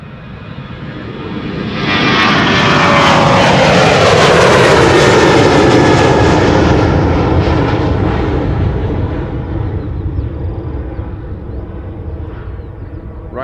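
A passing airliner at Schiphol Airport roars, its engine noise swelling to a loud, broad rush with sweeping whine tones, then slowly fading as it moves away.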